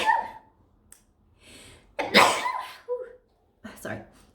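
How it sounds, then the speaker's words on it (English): A person sneezes, a sharp explosive burst following quieter breathy sounds, with a second shorter burst after a pause, close and fairly loud. "I'm gonna sneeze."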